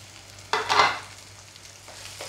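A spiced beef brain mixture hits hot oil with fried onions in a pan, bursting into a loud sizzle that fades to a softer crackle, with a second brief flare near the end.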